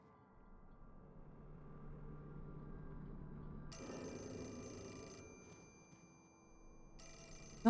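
Phone ringing in the horror video game Fatal Frame 4, a quiet electronic ring in bursts over a low ambient drone, with no speech.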